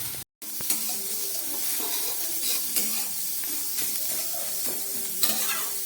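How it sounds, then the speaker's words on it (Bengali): Grated coconut and snake gourd fry together in a pan, giving a continuous close sizzle and hiss punctuated by occasional stirring clicks, after a very brief dropout at the start; no one speaks. "এবার নারকেল দেওয়ার পরও আমি আরও একটু ভেজে নিচ্ছি।"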